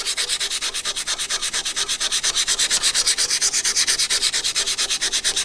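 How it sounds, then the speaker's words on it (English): A small rusty magnet being sanded with wet and dry sandpaper, giving a steady, rapid back-and-forth rasping at close range that keeps an even rhythm throughout with no talking. "Alright, a little bit of wet and dry. Sand down on our little magnet."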